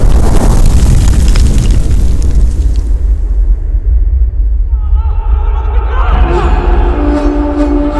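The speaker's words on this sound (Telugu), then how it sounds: "నేనేరా మిమ్మల్ని కాపాడడానికి బాంబు వేశాను" A bomb goes off in a Telugu film scene from O Manchi Roju Chusi Cheptha: a loud, rumbling blast opens and slowly dies away, followed by voices and tonal sound.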